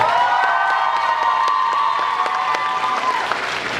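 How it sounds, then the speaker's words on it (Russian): Steady applause with cheering and whoops from the audience at a university KVN comedy league final, continuous clapping with a held cheer running through it. "эти ребята достойны еще более громких аплодисментов"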